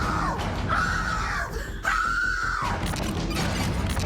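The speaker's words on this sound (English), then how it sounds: "the woman pushes back and lets out a blood-curdling scream" A woman lets out a long, piercing scream in two sustained bursts during a tense confrontation by a building elevator, loud and close over a harsh, noisy background.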